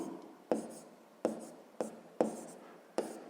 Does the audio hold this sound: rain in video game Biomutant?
no